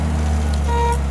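The horn of a 1961 Austin-Healey Sprite gives one short honk while the car drives, rising over a steady engine and road drone close by.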